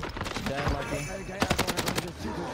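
Rapid automatic rifle fire from an STG in a first-person shooter, a loud sustained burst of closely spaced shots over game ambience and a voice.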